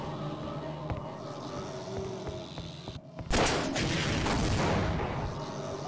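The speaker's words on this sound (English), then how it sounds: "let's use a rocket launcher" A rocket launcher fires in Half-Life: Opposing Force, heard as a loud, sudden blast with a long, roaring broadband tail that fills the back half of the clip over a busy game soundscape.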